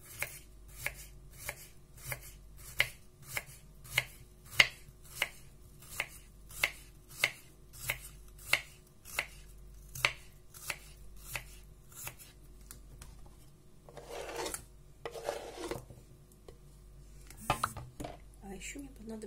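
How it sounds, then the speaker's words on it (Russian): Knife slicing cucumbers into rounds on a cutting board, a steady run of about fifteen crisp, evenly spaced chops, close and clear, followed by softer rustling and scraping as the slices are moved. "Огурчики нарежу вот такими ломтиками."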